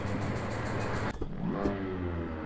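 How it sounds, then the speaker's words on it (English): A Volkswagen Kombi van engine in the Assetto Corsa racing game roars and revs steadily, dipping briefly before climbing again with a rising whine, loud and close with no voices. "Hear that engine roar?"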